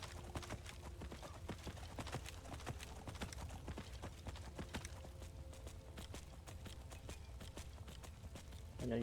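Steady clip-clop of horse hooves in Skyrim, plodding up a steep slope at a walking pace, quiet and evenly rhythmic.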